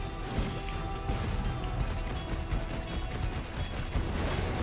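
Enemies bursting apart in Darksiders Genesis, a dense, continuous clatter of crashing, popping blasts layered over game effects, loud and busy throughout with no gaps.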